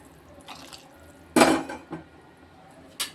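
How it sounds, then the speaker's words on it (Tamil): Hot water is poured into a pot for cooking pea rice, a brief loud splash followed by a few metallic clinks of the pot and utensils in a quiet kitchen. "இங்கிட்டு தண்ணி சுட்டுக்கிட்டு இருக்கு இதை ஊற்றுவோம்"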